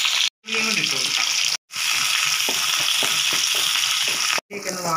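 Curry leaves and garlic sizzle and crackle in hot coconut oil, a loud, continuous frying hiss broken by a few brief gaps.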